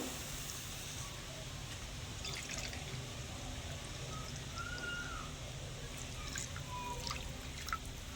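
Liquid milk is poured into a cooking pan for semolina, making a faint, steady trickling and dripping, with a few crows cawing in the distance.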